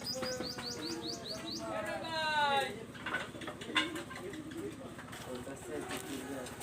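Pet pigeons, including a Mysore pigeon chick, coo and chirp nearby in a repeated series of short calls, while someone talks over them.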